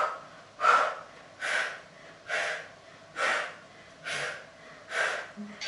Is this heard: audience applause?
no